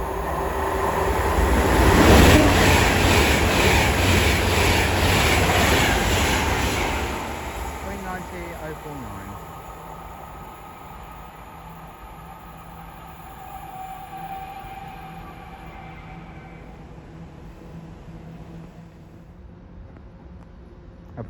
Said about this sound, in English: Soon to come flying through now will be a Banter West Coast service bound for Manchester Piccadilly from London